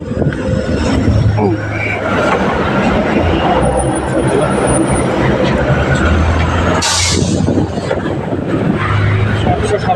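Delhi city bus 727 crossing a flyover near Nizamuddin railway station, a loud constant roar of engine and road noise with wind buffeting the microphone, and a passing hiss midway.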